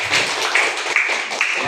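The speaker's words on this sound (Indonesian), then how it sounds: "tepuk tangan untuk Gamaja" A class applauding a student, a short burst of clapping from a group in a classroom that stays fairly even throughout.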